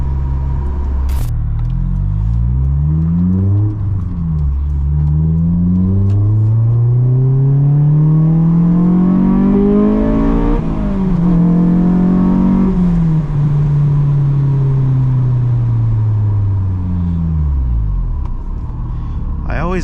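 A car drives and accelerates, picked up by a GoPro camera, its engine note rising and falling in long sweeping pitch glides through repeated gear changes, loud and continuous for the whole stretch with a voice talking faintly over it.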